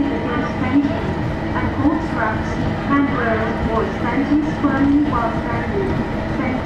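A Bangkok Gold Line train rolls steadily along rails, switching tracks near Khlong San terminal station, with rhythmic clattering and rumbling, while a voice talks over the continuous mechanical noise.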